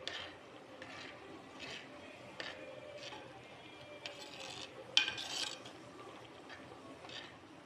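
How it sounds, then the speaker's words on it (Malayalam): A spoon scrapes and stirs jackfruit seed and mango curry in a pot over a lowered flame, making soft rhythmic rasping strokes with an occasional sharper metallic clink. "ഫ്ലെയിം കുറച്ചിട്ടിട്ട് നന്നായിട്ടൊന്ന് ഇളക്കി കൊടുക്കാം."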